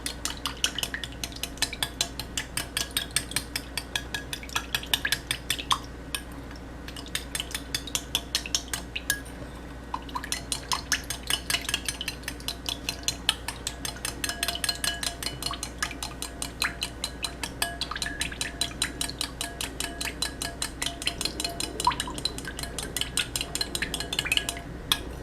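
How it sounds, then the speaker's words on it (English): A homemade hand sanitizer mixture is whisked in a bowl, a rapid rhythmic clinking of metal wires against the bowl that keeps going steadily and close up, with no talking. "And next we just whisk that."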